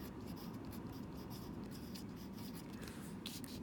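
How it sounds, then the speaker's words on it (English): Pen or marker writing on paper or a worksheet, a steady close scratching texture that runs continuously without any talk. "we'll just write right on it"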